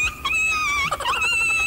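High, wavering whimpers and whines from Filipino street dogs (aspin), several thin overlapping cries sustained close to the microphone, with no talking.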